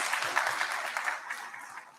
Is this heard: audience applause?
yes